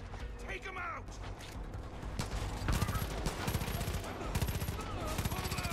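Gunfire in Far Cry 5, a rapid series of sharp shots rattling off in quick bursts over mechanical clicks and clatter, with game sounds and some voice beneath.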